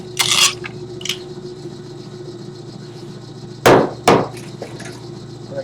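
A glued plywood test sample is tapped apart in a lab: two sharp, loud knocks close together near the end, after a few lighter taps early on, over a steady low hum.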